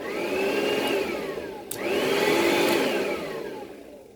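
An Oreck XL Platinum HEPA upright vacuum cleaner whirs steadily in a living room, briefly cutting out around the middle and then starting up again with a sharp click and rising motor whine.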